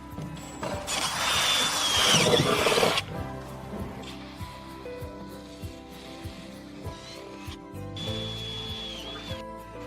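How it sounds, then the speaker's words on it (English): A cordless screwdriver with a 4mm bit drills through the reinforced inner metal plate behind the body panel of a 2024 Ford Courier, a loud grinding bore of about two seconds, then quieter hum, clicks and a brief motor whine. "Then drill through the reinforced metal as well."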